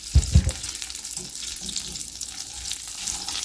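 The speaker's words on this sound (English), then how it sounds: "Keep sauteing it." Brown sugar melting and sautéing in a pan, with a steady close sizzle after a couple of brief knocks at the start.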